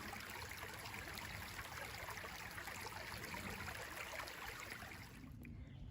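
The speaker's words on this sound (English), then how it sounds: "We can focus on the way the water goes over the rocks," Stream water runs over rocks and through fallen branches in a forest, a soft continuous rushing burble that ends with a brief knock near the close.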